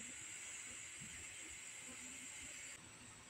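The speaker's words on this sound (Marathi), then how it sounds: "बघू शकता चहा उकळते." Ginger tea boiling in a pot on a gas stove gives a steady, close hiss of bubbling and steam that holds even throughout, dropping slightly near the end.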